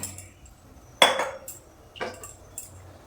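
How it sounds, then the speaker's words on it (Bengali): A pot lid set down onto a cooking pot of thin Bengali fish curry with green banana, potato and lentil dumplings, giving one sharp metallic clink followed by a couple of lighter clatters, close and alone in a quiet kitchen. "ঢাকনা দিয়ে দিলাম।"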